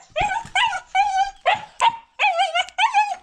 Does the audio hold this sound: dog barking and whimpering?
yes